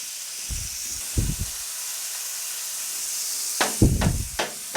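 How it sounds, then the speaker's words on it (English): Strips of bacon sizzle in a hot frying pan, a steady bright hiss throughout with a few low clunks of the pan or utensil near the start and end, no voices. "just from that hitting the frying pan"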